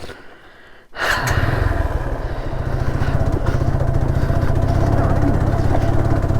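A motorcycle on a rough off-road trail in the Kalvarayan hills, its engine prone to cutting out; after a quiet second it fires up and runs loud and close with a steady, rough, throbbing idle.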